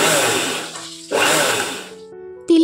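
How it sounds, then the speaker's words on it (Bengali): A kitchen mixer grinder whirs at full speed while dehusking white sesame seeds, switched on and off in short pulses: two loud grinding bursts, then a brief stop before the motor surges again, close and with no voices. "তিলের খোসাগুলো ছাড়ানোর জন্য মিক্সারে এরকম বারবার যদি আমি অন অফ করি তাহলে খোসাগুলো খুব সহজেই উঠে যায়"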